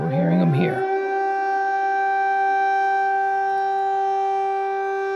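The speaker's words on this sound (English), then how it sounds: "The news sources like to jump in with air raid sirens going off." Air raid sirens wail with a steady, sustained civil-defense tone that holds loud and unbroken, following a brief voice at the very start.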